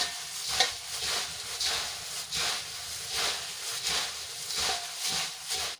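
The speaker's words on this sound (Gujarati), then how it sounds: "સેવ નાખીને આપણે એકવાર હલકા હાથે સરસ રીતે મિક્સ કરી લઈશું" Sev is tossed by hand into garlic sev mamra, puffed rice and crunchy gram-flour noodles, producing a steady dry rustling and crackling that swells in soft repeated sweeps, close and continuous, with no talking.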